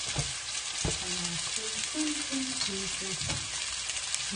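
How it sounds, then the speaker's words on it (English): Tomatoes for a stovetop ratatouille cooking down in a pan: a steady soft sizzle with intermittent stirring scrapes, while a faint voice-like hum runs low in the background. "Mix that in and let those tomatoes break down and become like a sauce."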